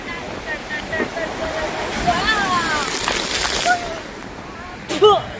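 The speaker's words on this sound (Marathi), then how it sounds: "हे बघ पाणी कसं उड्या मारतय" Sea water splashing and sloshing at a Mumbai shoreline, a steady watery wash with a louder splash near the end, while people talk excitedly over it.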